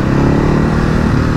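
A 2024 Ducati Hypermotard on an open road, its engine droning loud and close with a steady, throbbing mid-range rumble that holds even throughout the moment.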